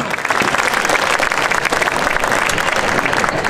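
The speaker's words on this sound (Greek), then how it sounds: "Αυτό θέλω για τον Αυγουστή του Πολέμη ένα χειροκρότημα από όλους σας." A Greek audience breaks into sustained, loud applause in honour of Avgoustis Polemis, the man who opened the Andros line. The clapping is dense and continuous throughout, with faint voices mixed in.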